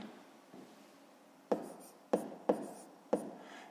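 Pen strokes writing numbers on paper while working a long division problem in a fifth-grade maths exercise, four short distinct taps and scratches in an irregular rhythm after quiet, close and soft.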